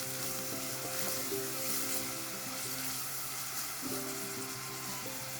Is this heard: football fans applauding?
no